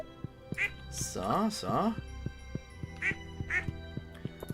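Duck quacks from the Stardew Valley farming game ring out in short bursts, a double quack early then two more later, over a steady ticking game soundtrack while someone talks briefly.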